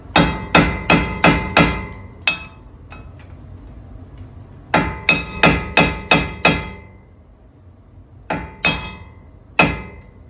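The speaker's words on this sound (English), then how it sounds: "we need to take off the dust cover. Then we're going to use the flathead to get in there." A flathead screwdriver works the wheel hub dust cover off a third-generation Toyota Tacoma during a hub replacement. Sharp, loud metallic taps come in quick bursts of four to six, separated by pauses and a few single strikes.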